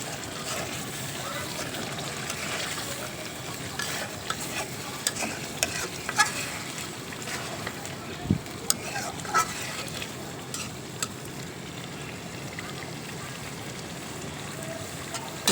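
Beef curry frying in oil on a wood-fired stove as potatoes are added, with a steady sizzle, scraping stirs and occasional clunks of the spoon against the pot close by.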